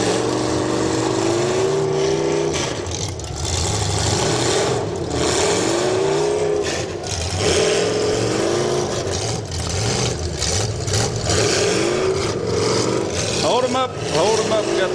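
Demolition derby cars at the Athens County Derby rev and rumble together, engines surging and falling in rough bursts, one car running on a flat rear tire, with an announcer talking over the steady, loud crowd of engine noise.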